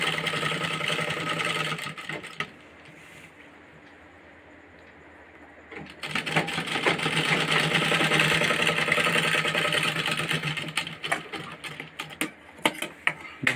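A sewing machine stitches a hem on a patiala salwar in rapid mechanical bursts, stopping for a few seconds of near quiet before running again in fast clattering spurts.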